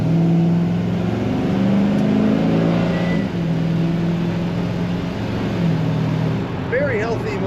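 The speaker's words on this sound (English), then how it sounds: "Very healthy motor, strong acceleration." A 1952 Chevrolet 3100 Stepside street rod pickup engine runs loud and steady, with a low droning tone that rises slightly as it accelerates and holds strong throughout.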